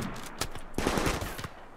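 Gunfire in the video game RimWorld: a quick burst of sharp synthetic shots, several close rapid cracks in under two seconds, loud and alone.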